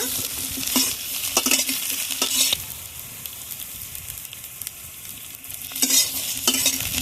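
A spatula stirs brinjal frying in oil without salt, a steady sizzle broken by repeated scraping strokes against the pan, close and continuous with no voices.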